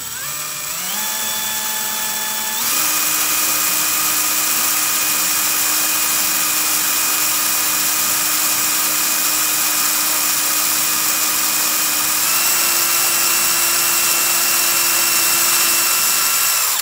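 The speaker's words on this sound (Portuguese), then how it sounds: "ela é bem fininha a chapa, então não é difícil furar" A loud, continuous electric drill whine as it bores slowly through thin sheet metal on a Karmann-Ghia door, rising in pitch as it speeds up, then holding steady, shifting slightly near the end, with no talking.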